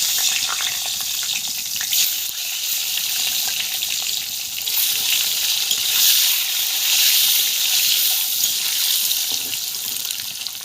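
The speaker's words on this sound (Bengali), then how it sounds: "ডিমগুলোকে আমি লাল করে ভেজে নেব" Eggs fry in hot oil in a wok, giving a steady bright sizzle and crackle that swells slightly midway and carries on without talk.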